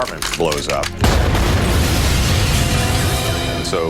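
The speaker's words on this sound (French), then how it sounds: "lorsque le magazine prend feu, tout l'appartement explose" An apartment blows up in a film scene: a brief voice is followed by a sudden, very loud boom that rolls into a sustained, roaring blast rumble to the end.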